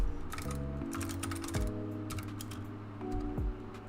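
A computer keyboard clatters with quick, steady keystrokes close by, running under a low tonal background.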